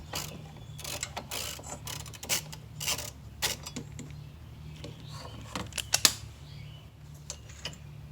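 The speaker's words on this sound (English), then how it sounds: "I'm going to take my jack and lift up the trailing arm a little bit" A mechanical jack is pumped to raise the rear trailing arm of a BMW E46 330i ZHP, giving a run of close ratcheting clicks and creaks in an uneven rhythm with no one speaking.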